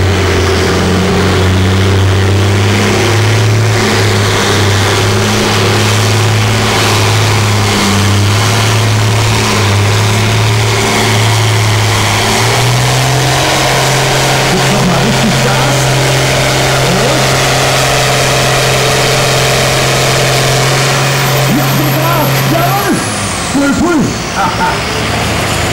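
A pulling tractor in the Standard 6t class roars steadily along the track at the 2004 Füchtorf tractor pulling event, a loud sustained engine drone shifting pitch midway, with a commentator talking over it.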